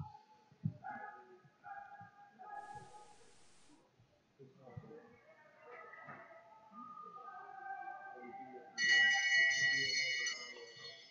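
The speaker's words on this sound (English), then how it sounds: "And La Liberté Roy is hearing the bell" A last-lap bell rings near the end at an indoor Olympic Oval speed skating race, a bright, sustained clanging under continuous arena commentary and crowd noise.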